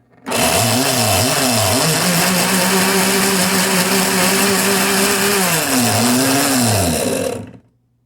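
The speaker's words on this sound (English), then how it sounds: "We got the chop setting where you would just work it like." A 1978 Osterizer Galaxy blender on its chop setting, motor whirring loud and close for about seven seconds, pitch dipping and rising in short pulses at the start and end with a steady hum between, no talk.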